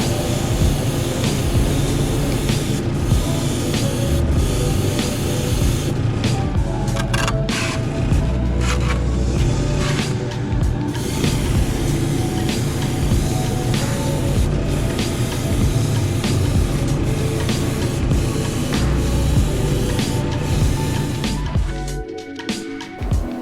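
Airbrush spraying paint over Badger Photo Frisket masking for plastic modeling: a steady, close hissing spray runs almost unbroken, with faint clicks and brief shifts before it cuts off at the end.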